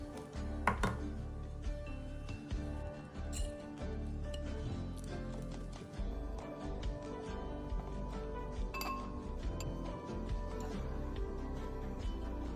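A whisk stirs thick steamed-egg-cake batter of egg, flour and soda in a bowl, staying down in the batter. Continuous light clinks and scrapes tick along close by, with no talking.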